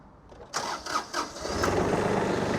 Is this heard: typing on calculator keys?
no